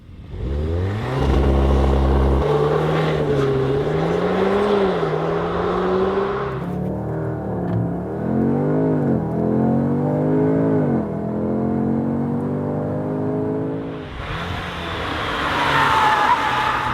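An Audi S3 Sportback on a test track revs hard through rising and falling gear pulls. The engine drone is loud and close, with a lull and a throttle change midway, then a renewed surge of acceleration, and no talking.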